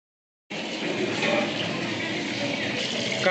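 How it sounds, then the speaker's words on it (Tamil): Water pours steadily into a cooking pot as rice is prepared for mushroom biryani, a continuous close gushing splash with no talk. "நம்ம வந்து அரிசியை ஊற போட்டு உலைக்கு தண்ணி ஊற்றிடுவோம்."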